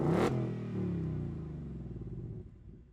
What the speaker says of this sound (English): Just press OK, floor the throttle, and go.